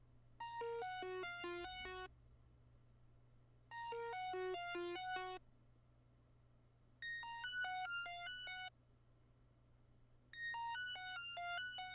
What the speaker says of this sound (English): Then we have one more sound, which is actually the Puke synth again.